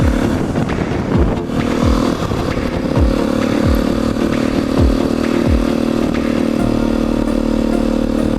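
A motorcycle rides along a road near Luk Keng in Hong Kong, its engine droning steadily and loud up close, with a regular clattering rhythm repeating underneath throughout.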